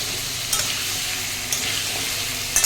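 Potatoes frying in a pan of hot oil, a steady close sizzle throughout, with three brief louder crackles as the pieces are stirred or shifted; no talking.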